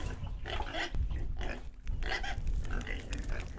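Pigs kept in a Neolithic village grunt and oink almost continuously. They sound close, with overlapping snorts and rough calls in a busy, noisy pen.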